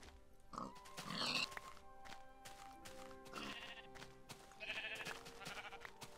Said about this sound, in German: Ach man, wieso sind ja hier immer so viele Schafe?